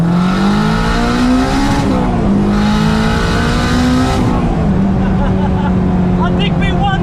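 A 500bhp Honda K20-powered EK Civic revs hard and races, its engine note rising and falling loudly in long pulls with voices talking over it.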